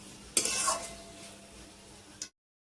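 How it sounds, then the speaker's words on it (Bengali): Spices sautéing in a pan, a brief burst of sizzling and stirring scrapes that fades to a low crackle, ending in a final clink before silence. "আর এই যে এখন মশলা কষাচ্ছি"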